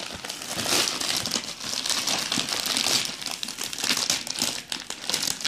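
A child tearing open a wrapped gift, a continuous close crinkling and crumpling of paper with bursts of ripping that go on for several seconds and no one talking.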